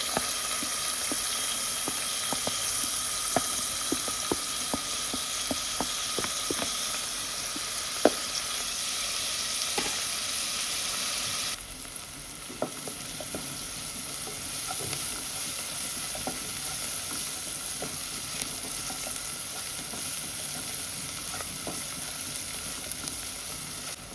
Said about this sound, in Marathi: कांदो बरो भाजून जालो सॉफ्ट जालो